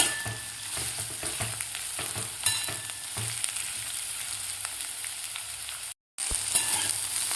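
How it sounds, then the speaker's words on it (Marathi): Spiny gourd (kantola) sautés in oil over a medium gas flame, a steady close sizzle with occasional stirring scrapes and a brief moment of silence near the end. "मिडियम गॅसवर व्यवस्थित तेलात परतून घ्यायचे आहेत आपल्याला."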